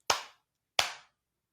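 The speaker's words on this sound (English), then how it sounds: "clap your hands twice" Two crisp, close hand claps ring out cleanly in a quiet room about 0.7 seconds apart during a seated home dance routine, with silence around them.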